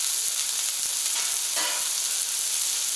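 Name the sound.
onions sizzling on a Camp Chef flat top grill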